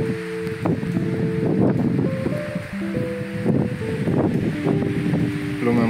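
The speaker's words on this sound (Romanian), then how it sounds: "rafale puternice" Strong wind gusts roar across a mountain ridge near a refuge in Piatra Craiului, during rain, as a loud, continuous rushing with swelling blasts that fill the whole stretch, no voices over it.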